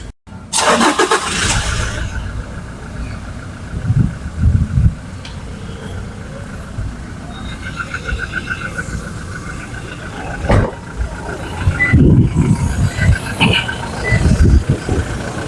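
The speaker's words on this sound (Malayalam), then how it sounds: "ഇനി നമുക്ക് ഈ വണ്ടി സ്റ്റാർട്ട് ചെയ്തിട്ട് ഇതിൻ്റെ സൗണ്ട് ഒന്ന് കേൾക്കാം" A Toyota Fortuner engine cranks and catches, then settles into a steady, smooth idle, with a few brief bumps and clunks from nearby.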